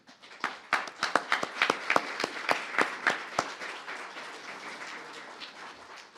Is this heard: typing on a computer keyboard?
no